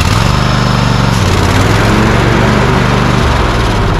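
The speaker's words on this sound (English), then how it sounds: "Start it up, full PTO, see if the plates come on." A Cub Cadet lawn tractor engine runs loudly and steadily with its PTO engaged after a belt repair, a constant close drone that shifts pitch slightly partway through.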